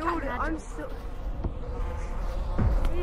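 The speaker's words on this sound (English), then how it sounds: "I pissed off the bees again, and now I'm running." Angry bees buzz steadily in the VR game Gorilla Tag, a dense droning swarm that keeps going for several seconds under faint background game noise and a couple of soft thumps.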